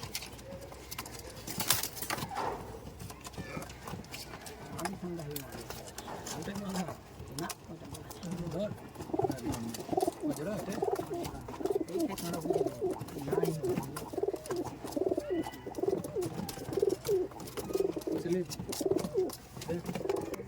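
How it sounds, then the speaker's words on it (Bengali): Saki teddy pigeons, a high-flying breed kept in Murshidabad, coo in close, rhythmic, repeated bursts that grow steadier in the second half, with faint voices and rustling around them. "দুটো সাকি পায়রা আছে"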